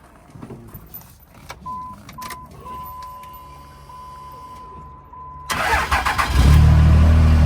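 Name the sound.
truck engine starting up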